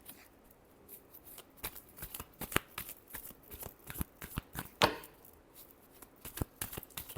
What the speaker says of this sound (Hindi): ताकि मैं उनकी एनर्जी से कार्ड शफल करूं